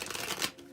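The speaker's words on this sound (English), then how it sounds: "I'm going to shuffle," Rune cards shuffled by hand during a tarot-style reading, a quick continuous papery riffle that builds to a brief louder flutter, then trails off softly, close up and with no talking.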